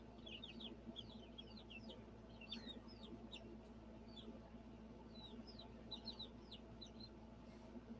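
Chickens cluck and chirp faintly in repeated bursts over a steady low background hum, sounding some distance away.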